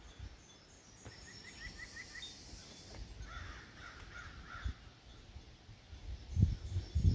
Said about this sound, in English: So the birds are going off, the crows are screaming.